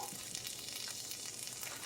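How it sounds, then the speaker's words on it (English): Steady hiss and crackle of ground turkey fajita filling sizzling in a hot frying pan, continuous and even throughout, with no voices. "there is a sizzle going on"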